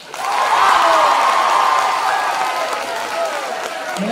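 A school audience applauds and cheers for Pepe, the parents' association representative, at a talent show: sustained clapping with a tonal crowd murmur that swells early and then eases slightly.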